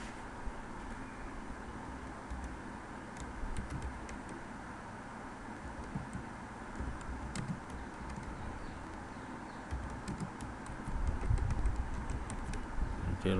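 Quiet, steady clicking of a computer keyboard as someone types in a spreadsheet, with soft irregular keystrokes over a constant low background hum and no talking.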